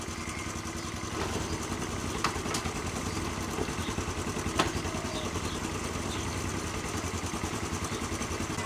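A postie bike motorcycle engine idles in neutral, close by, with a steady rapid thump and mechanical clatter that holds throughout and carries a few faint clicks.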